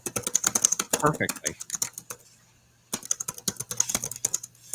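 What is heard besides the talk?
computer keyboard typing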